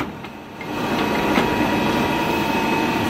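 A Gisholt 4L turret lathe runs steadily with a continuous mechanical hum and whine. The level swells slightly after the first half-second as the machine picks up, then holds even with faint ticks.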